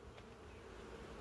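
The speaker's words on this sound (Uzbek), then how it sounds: "mana arilarimiz uchib ishlayapti, vazillab" Honey bees fly and buzz around an apiary hive during the season of hive expansion, a faint, steady, continuous drone with no voices.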